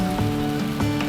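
Rain falls steadily in a dense, continuous patter, with a low steady hum underneath.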